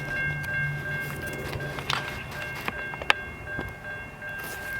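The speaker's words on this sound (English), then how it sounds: "Hopefully we can get this whole train." A Canadian Pacific grain train rolls past in Wauseon, Ohio, with steady rumble and wheel noise from the cars, a few sharp metallic clanks, and a thin high tone running throughout.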